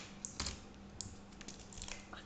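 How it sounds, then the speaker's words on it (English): A laptop keyboard is slid back into its slot and pressed down during reassembly, giving a quick run of light plastic clicks and taps close up, with no talking. "Is put the keyboard on again"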